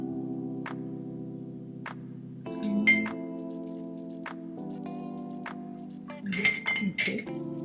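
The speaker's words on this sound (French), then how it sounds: "je vais brasser tout le temps, brasser votre vinaigre de cidre de pomme" Metal spoon clinking against a glass while stirring an apple cider vinegar drink, several light chimes at intervals with a brief flurry of clinks near the end, over a steady low hum.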